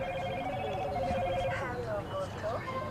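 A loud, old-style telephone ringtone trills repeatedly close by in the stands at a varsity baseball game, its warbling electronic rings standing out over faint background chatter.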